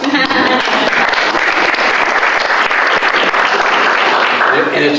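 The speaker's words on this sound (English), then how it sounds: "This one's worth another applause." Steady applause from the audience at a Hillsboro school board meeting, dense and continuous clapping filling the room for the whole stretch, with a few voices mixed faintly underneath.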